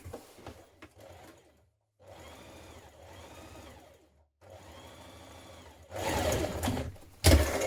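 A domestic sewing machine stitches a dart in dress fabric, running in three short steady bursts separated by pauses, followed by louder rustling and handling noise at the end.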